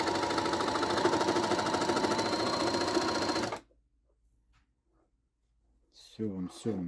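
A Rubina 4564 sewing machine stitches in a steady, fast mechanical chatter for several seconds, then stops dead into near silence before a voice speaks briefly at the end.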